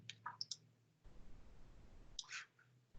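Mouse clicks while working in Cisco Packet Tracer, a handful of sharp, close clicks at the start and again near the end, with a quiet hum between them and no speech.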